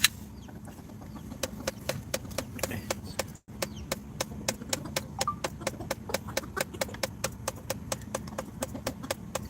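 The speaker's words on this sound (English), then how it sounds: "He is a beautiful, beautiful rooster." A rooster pecking at and eating apples, sharp rapid regular tapping clicks close by, with a few soft clucks mixed in.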